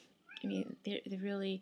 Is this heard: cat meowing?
yes